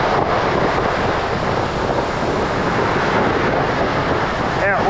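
Heavy, steady broadband roar of a rain-swollen waterfall running at a high, forceful level, near and loud throughout, with wind buffeting the microphone.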